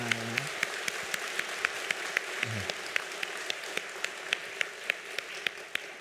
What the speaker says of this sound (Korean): 감사의 마음으로 크게 격려하고 박수하겠습니다.